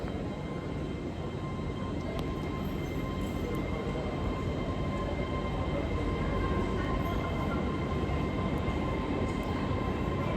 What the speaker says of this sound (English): Departing now is 800-101 off to Aberdeen.